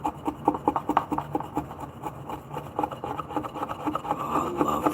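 A small chisel edge on a mallet made from a 2x4 works into wood, giving quick repeated rasping scrapes in an uneven rhythm, close and fairly loud, with no talking.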